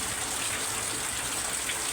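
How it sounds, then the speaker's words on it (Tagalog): Heavy, steady rain pours without pause during a typhoon in a rural Philippine setting, a dense continuous hiss of falling water close by with no voices over it. "Walang tigil ang ulan."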